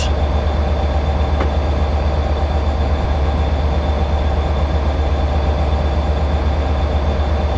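The Royal Train railtour rolls to a stop at a station platform, a steady loud low rumble of locomotive and carriages with a constant drone and one faint click, no voices.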